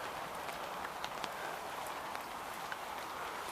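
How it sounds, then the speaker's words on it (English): Steady rain hisses close by at a moderate level, with scattered louder drop taps over a constant wash of noise and no talk. "Just as we started setting up, it started to rain, Mike, didn't it?"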